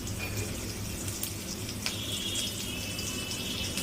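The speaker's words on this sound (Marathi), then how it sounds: "आता आपण फोडणी देऊया. लसूण टाकले, थोडीशी मिरची" Garlic and green chili hitting hot oil for a tadka tempering, a steady hissing sizzle with a few sharp clinks, close and continuous without talk.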